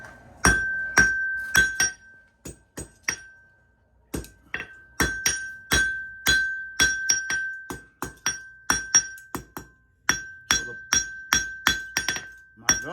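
A blacksmith hammers a small piece of yellow-hot steel on an anvil while tapering a beaver-tail shape, each blow a ringing metallic strike. Quick clusters of close, loud hits follow one another, with brief pauses, and no voices are heard.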